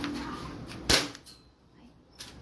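A Glock pistol fires a single sharp, moderately loud shot that cracks out once against a quiet background.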